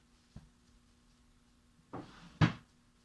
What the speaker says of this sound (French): Maintenant, il ne manque plus qu'à aller fermer le tiroir.